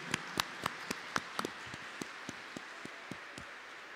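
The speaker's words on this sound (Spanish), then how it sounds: "Fuerte los aplausos a la Virgen del Quinche" Sparse, faint applause at an evening church Mass, a few distinct claps in a slow irregular rhythm that thins out toward the end.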